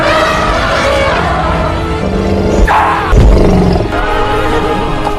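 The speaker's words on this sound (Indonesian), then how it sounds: "Meski sudah dipaksa sekalipun, para gajah malah mengamuk hingga Raja Abraha pun terjatuh dari tunggangannya." Enraged elephants roar in an animated story scene, a loud, continuous, layered bellowing that swells and surges with heavy thuds and commotion mixed in.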